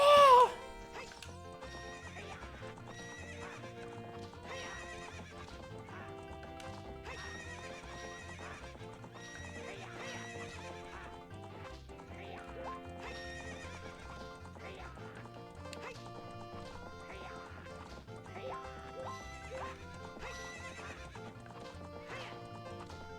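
Horse neighs once at the start, then steady galloping hoofbeats run with game music throughout, from a horse race at the ranch in the video game The Legend of Zelda: Ocarina of Time.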